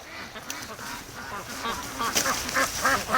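A group of ducks quacks continuously at a swamp, the calls overlapping in a busy, moderately loud chatter close by.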